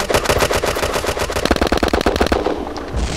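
Rapid automatic gunfire from the online shooter game Red Crucible Firestorm, loud and close, with dense bursts of shots that rattle on for about two seconds before cutting off into a brief lull.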